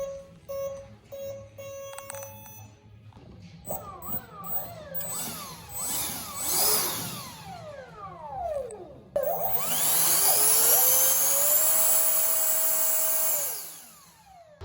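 The electric motor of a 3D printed RC jet powers up in bursts, whining and sweeping up and down in pitch before holding a loud, high steady whine that then cuts off, close by, with no talk.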